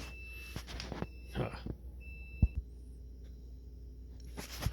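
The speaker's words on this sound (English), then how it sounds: "I'm going to close this door a little bit so it doesn't keep beeping" An LG/Kenmore refrigerator's door-open alarm gives several short, thin electronic beeps at intervals over a low hum, mixed with soft knocks and handling noises nearby.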